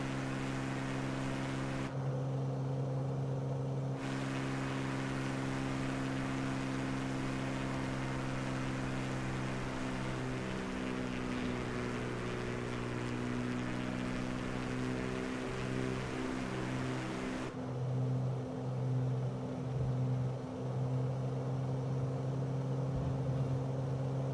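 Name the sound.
aircraft engine in Microsoft Flight Simulator 2024 video game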